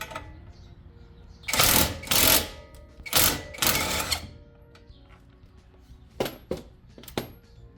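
Wrench work loosening the coilover bolts on a Nissan 240SX S14 during a Tein Flex Z coilover install, using 17 and 19 sockets: two loud bursts of ratcheting and clanking, followed by a few sharp, brief metallic clicks.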